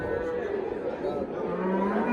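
Cattle at the Parkent livestock market near Tashkent, with a cow lowing amid a dense background of market chatter and crowd noise.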